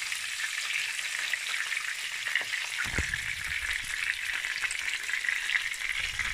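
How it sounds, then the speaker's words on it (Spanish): Pork cheeks sear in plenty of hot olive oil in a frying pan, a loud, steady sizzling hiss that runs throughout, with a brief clunk partway through as the meat shifts. "En una sartén echamos abundante aceite de oliva y cuando esté caliente sofreímos la carrillada."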